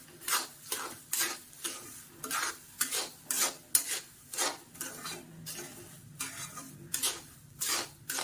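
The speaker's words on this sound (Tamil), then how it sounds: "இது இப்படியே போட்டு கிண்டுவோம்." Rava kesari with added sugar is stirred in a pan, a spoon scraping in a steady rhythm of regular strokes, close and fairly quiet, with a faint sizzle underneath.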